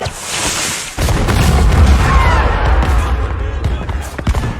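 A sharp blast opens after a moment of quiet, followed by a rumbling, roaring wash of noise with scattered thuds, like a cannon firing nearby, from the series Black Sails.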